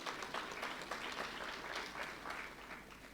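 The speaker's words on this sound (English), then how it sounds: "May we give him another round of applause" An audience at a competitiveness summit gives a round of applause for a speaker, steady dense clapping throughout, moderately distant and fairly quiet, with no voices over it.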